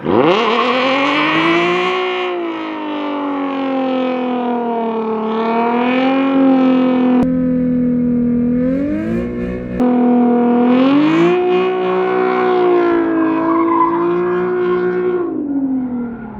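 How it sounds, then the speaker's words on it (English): Nissan 350Z with traction control off doing a burnout, engine held at high revs with a steady, loud droning tone that rises and falls slightly, nearly continuous for the whole stretch with a brief dip midway, no talking. "I'm just gonna try a burnout really quick"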